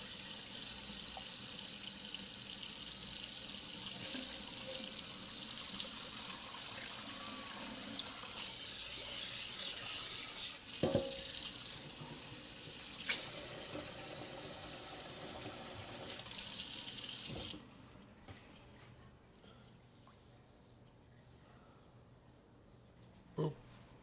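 Food washed under a running kitchen tap in the sink, steady water flow with occasional clinks and splashes, then the water cuts off near the end, leaving a quiet room.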